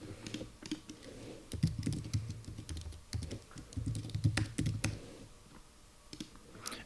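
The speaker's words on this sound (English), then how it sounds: "let's type it manually." Keys clack on a computer keyboard in bursts of quick, close taps with short pauses between runs, loud and dry with no voices over them.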